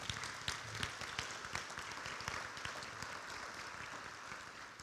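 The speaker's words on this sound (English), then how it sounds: "A nice round of applause for them, please." Steady audience applause fills a hall at a national high school football hall of fame induction ceremony, a dense, sustained clapping wash heard from a distance with no talk over it.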